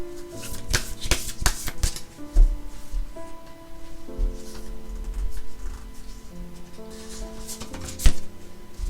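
Tarot cards being shuffled up close, a run of crisp riffling bursts and soft slaps, with background music playing throughout and no voice heard.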